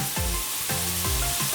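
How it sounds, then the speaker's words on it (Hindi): Cumin seeds crackle and sizzle loudly in hot oil, a constant hiss punctuated by a few quick scraping swipes. "अब इसको जीरे का तड़का देंगे।"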